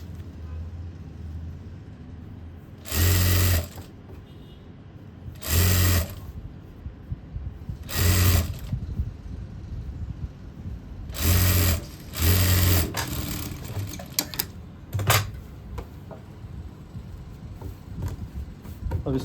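An electric sewing machine stitches the pleated top seam of an Afghani palazzo, running in about six short, loud, close bursts separated by quiet pauses with light handling noise.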